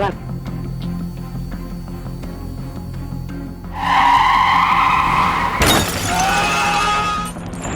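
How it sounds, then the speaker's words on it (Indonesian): Traffic collision on a road: engine rumble and road noise build into a loud tire screech, then a sharp crash with shattering glass, followed by lingering high squeals and debris. "Ada kecelakaan Pak, Kecelakaan lalu lintas"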